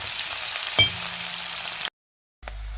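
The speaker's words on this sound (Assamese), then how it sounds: "অকণমান সময় এইখিনি এতিয়া মই ভাজি লওঁ।" Chopped onions frying in a kadai give a continuous close sizzle with a small clink near the start. The sound cuts out briefly to silence, then the hissing resumes.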